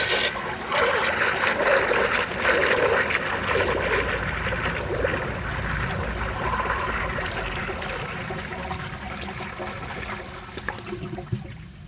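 A high tank toilet with its 18-gallon tank half full flushes with a smooth, quiet rush of water that trickles and gradually fades over several seconds.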